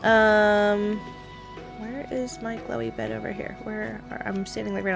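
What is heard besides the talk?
None of the usual background noises is heard.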